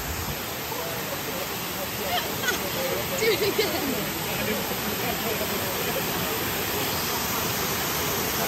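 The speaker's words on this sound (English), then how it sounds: "we're still at the second waterfall" A steady roar of a waterfall in Wales fills the scene continuously, with faint voices and brief splashy bursts of people jumping in rising over the constant rush.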